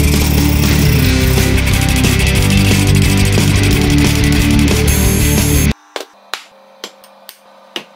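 Loud, dense grinding and cutting noise as aluminum sheet is hacked out runs continuously, then stops abruptly, followed by several sharp metallic knocks spaced apart.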